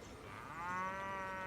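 Jersey cows in a vegan video game, a single drawn-out moo that rises and swells, heard alone and fairly faint.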